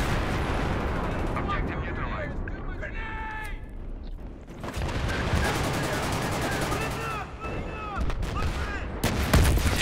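Gunfire crackles in Battlefield 3 multiplayer, with dense bursts of shots and blasts over a constant rumble of battle, and some sharp cracks close by.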